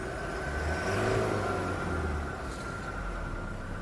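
The diesel engine of a 2023 Toyota Hilux G manual is revved up under inspection, a rising engine roar that peaks after about a second and then settles back toward a steady hum, heard close with no talking.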